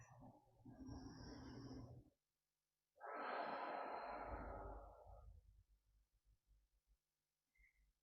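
Slow, deep breaths during a seated forward-fold hamstring stretch in a yoga class, close and soft, a long inhale then a pause and a long exhale, with faint quiet afterward.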